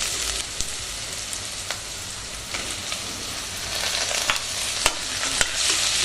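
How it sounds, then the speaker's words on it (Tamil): Chopped tomatoes sizzle and hiss in hot oil over browned onions while being stirred for biryani, a steady close crackle with occasional sharper pops and scrapes and no talking. "தக்காளி போட்டுட்டு அதை நல்லா வதக்குங்க"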